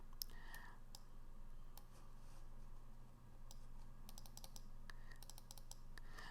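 A computer mouse clicks quietly during page layout work: short sharp clicks in small clusters, a few alone and several in quick runs near the end, over a steady low room hum.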